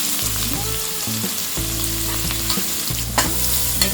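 Onion, green chilies and asafoetida frying in hot oil while being stirred, a steady close sizzle with scraping strokes of a spoon through the pan and a couple of sharper clinks near the end.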